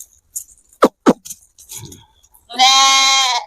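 A goat among sheep and goats grazing in a standing cotton field gives one loud, near, wavering bleat after a few faint knocks and rustles.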